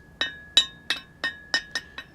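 A hammer and sledgehammer striking hot iron at a traditional village forge: seven sharp, ringing metallic blows in an even rhythm, loud and close, each clang decaying quickly, with no voices.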